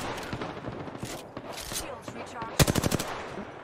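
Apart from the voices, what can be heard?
gunfire in Apex Legends video game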